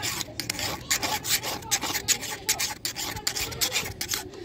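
A hand file strokes rhythmically across the chain of a Stihl MS382 chainsaw during sharpening. Repeated close, raspy scrapes come in a steady back-and-forth pattern, loud and alone.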